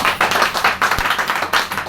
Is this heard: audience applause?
yes